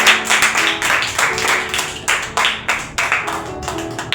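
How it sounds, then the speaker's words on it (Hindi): A church congregation at a Holy Spirit sermon claps in rhythmic bursts, a close, fairly loud pattern of repeated hand claps with a steady beat. "फिर से जोरदार तालियां"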